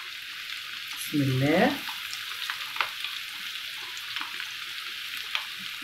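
Slices of liver fry in oil with a steady, close sizzle and occasional pops, while a voice briefly speaks over it.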